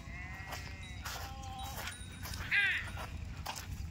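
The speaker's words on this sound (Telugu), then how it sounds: "ఇటు సైడ్ గొర్రెలు మేస్తున్నాయి" Sheep grazing in a field give one short clear bleat partway through, fairly close, over a steady outdoor rumble with a few faint thin calls before it.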